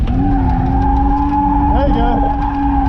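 A Mad Angle Nissan 370Z drifts on a track, its engine holding a steady high drone at full throttle while tires squeal and skid in wavering cries, loud and continuous throughout.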